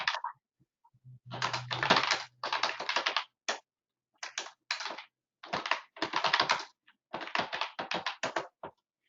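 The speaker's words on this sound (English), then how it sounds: "think Renee is typing us messages in the chat. So we can only hear her keyboard." Bursts of rapid clicking keystrokes on a computer keyboard heard over a virtual meeting call, typed in short runs separated by brief pauses, fairly close and clear.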